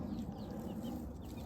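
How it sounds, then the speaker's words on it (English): Chickens around seven weeks and three to four weeks old make soft, low clucking sounds close by, a brief, quiet murmur with no talking. "I have two batches of chickens."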